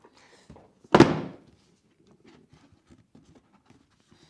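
A box for the Game Arena Royal Gold SMH G1 gaming headset opens with a single soft thunk of cardboard, followed by faint rustling and handling noises.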